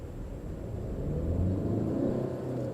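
A Hyundai Creta diesel SUV accelerates hard through the gears, its engine a deep, steady rumble that swells slightly midway and stays loud and close, without speech.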